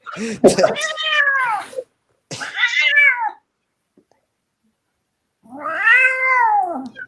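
A cat gives three long, drawn-out meows, loud and close, separated by short silences.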